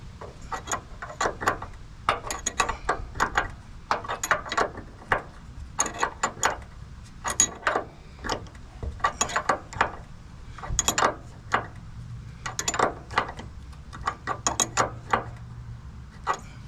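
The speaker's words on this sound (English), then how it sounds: "gotta get a wrench on that" A wrench ratchets in quick clicking bursts while air bag suspension parts on a Honda Acty mini truck are worked on, with short pauses between runs of clicks and a low background hum. No one speaks.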